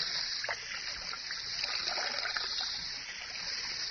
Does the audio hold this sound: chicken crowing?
no